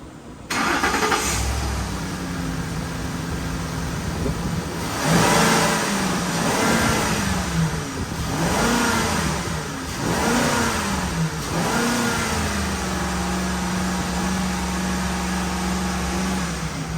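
A Ford Expedition engine cranks, catches and starts after a fuel pump replacement, then revs up and down several times before settling into a steady idle, close and loud.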